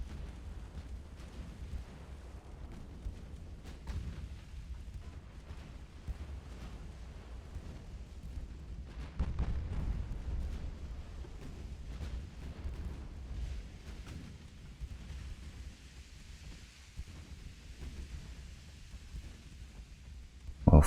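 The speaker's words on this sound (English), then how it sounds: "starting to redirect their gunfire." Naval gunfire from warships in the Ultimate Admiral: Dreadnoughts video game, a dense low rumble of distant heavy guns and explosions rolling continuously, swelling briefly at times, with no talk.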